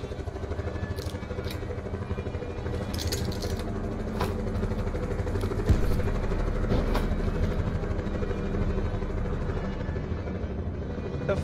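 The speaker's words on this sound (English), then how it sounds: "It's the horn. It's the helicopter horn." A helicopter in the Call of Duty Blackout game drones and rumbles steadily, with a sustained horn-like tone layered over the engine noise and occasional sharper game sounds.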